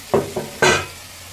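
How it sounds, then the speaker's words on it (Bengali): Tomato puree hits a sizzling mutton curry in the pan, three quick bursts of hissing spatter, the last the loudest, fading into a low simmer. "এবার দিয়ে নেব টমেটো পিউরি, দিয়ে নেব"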